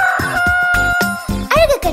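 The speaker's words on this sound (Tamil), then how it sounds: "கொக்கரக்க கோழி விடிஞ்சாச்சு எழுந்தி" A rooster crows in a Tamil children's nursery rhyme, one rising and falling call near the end, set over a bouncy musical backing.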